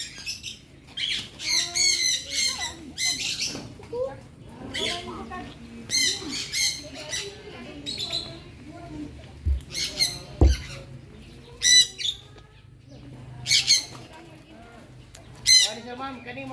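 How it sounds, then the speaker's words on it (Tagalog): Pigeons squawk and call in scattered bursts at an animal park during feeding, over a quiet background, with a faint voice now and then. "kalapati guys"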